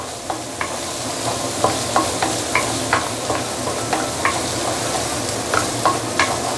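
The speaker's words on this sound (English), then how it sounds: "So just saute for a while." Whole spices, cinnamon stick, star anise, clove and bay leaf, sauté in hot oil for Teochew braised duck: a constant close sizzle with regular light taps and scrapes of a stirring utensil, no voices.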